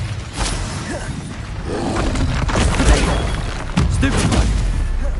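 A fire spell in Hogwarts Legacy is cast amid combat, loud booming and crackling bursts with several sharp impacts scattered across the clip, layered over a constant roar of battle effects.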